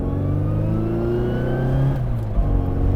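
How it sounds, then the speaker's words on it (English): A Mk 3 Mini Cooper S engine hums steadily at mid revs, pitch sliding gently up, then a brief dip and blip as revs are matched on a downshift from fourth to third, close and continuous. "So we can just click into fourth gear and then back down into third with a bit of rev matching"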